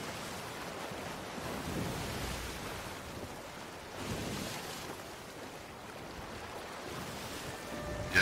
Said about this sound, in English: Wicked waves.